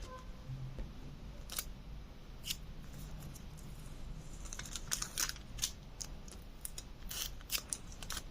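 Scissors snip through paper packets, with a series of short, crisp cuts at an irregular pace. The sound is close and quiet against a soft room hiss.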